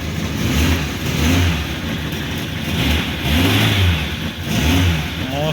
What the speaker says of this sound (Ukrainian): Зараз пробую завести і буду пробувати, чи ну, взагалі поїде таврія.